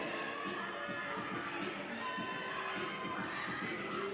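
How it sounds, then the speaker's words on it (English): A gymnast's team cheers steadily and loudly at a women's NCAA gymnastics regional championship meet, a continuous wash of shouting voices filling the arena with no pauses. "You can hear her team like cheering for dear life."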